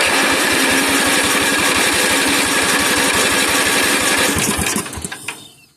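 A 1977 Bolens G10 garden tractor engine cranks at length while an electrical fault is diagnosed, a fast steady starter churn, loud and close, that slows and stops near the end with no talk.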